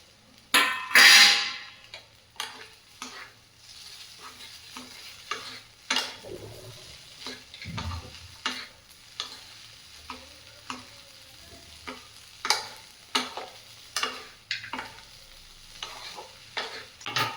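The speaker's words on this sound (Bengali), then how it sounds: "এবার আপনি বাদাম আর আলুটা দিয়ে ভালো করে মিক্স করে নিন" A spatula scrapes and clicks against a pan in irregular strokes while Bengali-style chow mein with peanuts and potato is stirred, over a faint sizzle, with a louder burst of frying near the start.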